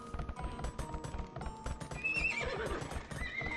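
A horse neighs with a rising, whinnying call in Age of Empires 2, over a dense bed of rhythmic hoof clip-clops and game effects; loud and continuous.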